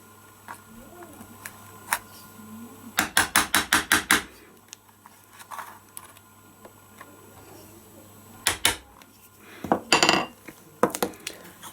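Light metallic tapping as pins are hammered flush into an Umarex Jericho 6mm airsoft pistol, a quick burst of about eight even hammer taps, then scattered single taps and a few more clustered knocks, close and crisp.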